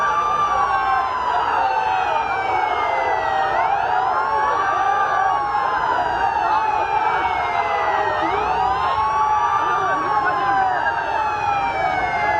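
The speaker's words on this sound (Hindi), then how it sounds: "एम्बुलेंस आई तो एम्बुलेंस को जगह दे दी" An ambulance siren wails loudly and continuously as it makes its way through a large crowd at a protest, its rising and falling tone sweeping repeatedly over crowd murmur and background voices.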